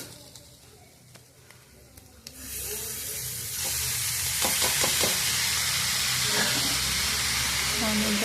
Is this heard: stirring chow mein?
yes